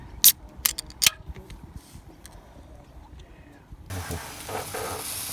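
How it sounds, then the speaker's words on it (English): Red curry with broccoli, zucchini and chickpeas cooking on a camp stove in a campervan: a few sharp clicks and clatters at first, then a loud, steady frying sizzle that swells and stays close. "Just cooking up curry for dinner"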